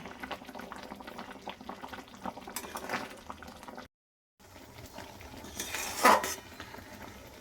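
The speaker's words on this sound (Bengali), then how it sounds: "কিন্তু আরেকটু নাড়াচাড়া করব, একদম টান টান করে নেব।" Cooked raw mango thickening in jaggery is stirred in a pan, giving a soft bubbling simmer and occasional scrapes and clinks of a spoon against the metal, heard close and quiet with a brief gap.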